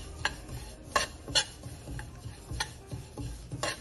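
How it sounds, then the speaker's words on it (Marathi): Sesame seeds stirred and dry-roasted in a pan for sesame chikki, with scattered light clinks and scrapes of a spoon against the pan at an uneven pace, fairly quiet and without talking. "तीळ आपण खंबंग भाजून घेणार आहे।"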